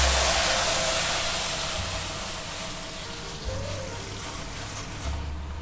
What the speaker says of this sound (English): Now it's time we give it the first rinse.